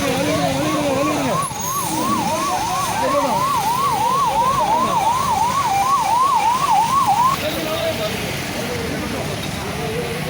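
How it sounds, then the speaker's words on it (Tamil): An ambulance siren wails in a steady rising-and-falling cycle on a rainy highway, loud and close over heavy road and rain noise, then cuts off, with voices talking underneath. "ஆம்புலன்ஸு வழி விடுங்க"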